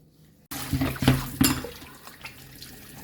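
Tap water suddenly starts running into a sink as Irish potatoes are washed, splashing and gurgling up close with a few louder sloshes, then settling into a steady flow.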